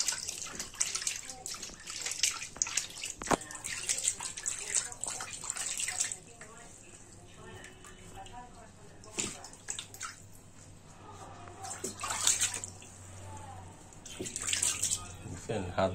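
Water splashes and runs in bursts while a cat is bathed at a pet clinic in Dhaka, alternating louder pouring with quieter stretches, and a voice talks at times underneath.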